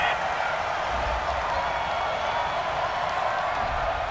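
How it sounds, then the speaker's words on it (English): Football stadium crowd at a Tennessee Titans versus Detroit Lions game, roaring in a dense, continuous wash of voices as it reacts angrily to a penalty flag, loud and sustained throughout with no pause. "Well, the crowd doesn't like that."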